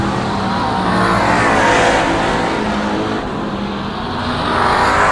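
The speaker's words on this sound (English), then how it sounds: "Carl Shetler looking to pick up that first heat race win of the season" Street stock cars racing in a heat on a dirt track, a loud continuous engine roar from several cars close by, swelling and easing slightly as they pass, with no voices over it.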